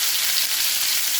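Country ribs frying in a pot give a loud, steady, hissing sizzle up close, continuous across the short moment with no voices.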